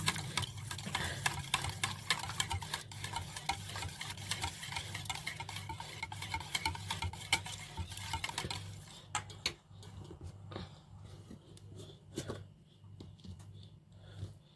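Spoon stirring a paprika and turmeric spice mixture in a pan, a steady close scraping and rustling texture over a low hum, easing off and growing sparser toward the end.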